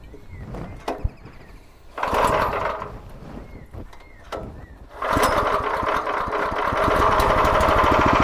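A small rotary tiller engine runs while tilling soil, chugging in bursts that alternate with quieter idle stretches, then holds a loud, steady working roar near the end.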